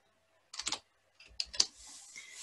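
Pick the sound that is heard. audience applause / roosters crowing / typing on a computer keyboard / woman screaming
typing on a computer keyboard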